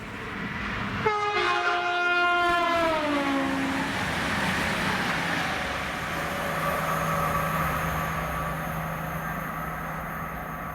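A train horn blares once, and then an East Midlands Railway Class 222 diesel passenger train, 222017, rumbles steadily past at moderate distance at Syston.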